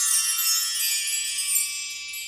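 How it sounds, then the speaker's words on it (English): Bright, high metallic shimmer of a mark tree's chime rods ringing together, a continuous sparkling wash of overlapping tones with no voices. "is the wind chime or the mark tree. Sounds like this."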